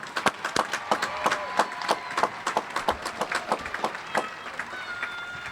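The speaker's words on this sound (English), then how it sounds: "Give them a round of applause, please." Applause and scattered clapping from a graduation crowd at the Sebastian River High School Class of 2021 ceremony, a steady run of sharp claps with some whoops, fairly close and continuous throughout.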